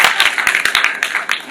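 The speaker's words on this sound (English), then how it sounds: "You missed the place to clap." An audience at a school fees talk bursts into brief, scattered clapping, a quick flurry of sharp hand claps lasting little more than a second, fairly close and loud.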